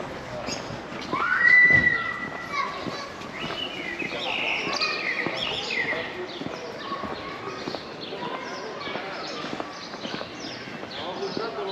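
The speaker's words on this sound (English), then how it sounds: "Nice to hear the birds." Birds singing outdoors in Santa Ponsa, Mallorca, with continuous chirps and whistled calls from several birds throughout, moderately near, alongside rustling and footsteps-like tapping in the background.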